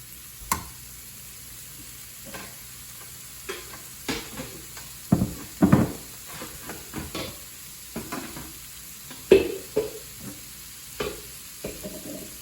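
Fatty ground beef with taco seasoning frying in a pan with no added oil, a faint sizzle under scattered scraping and tapping as a utensil breaks up the meat, no voices.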